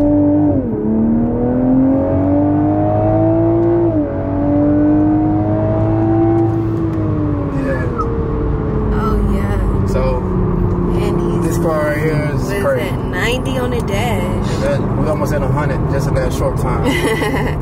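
A Toyota Supra accelerates hard along a straight, its engine note climbing through gear changes with brief dips between shifts, loud and close, with voices talking over the latter part.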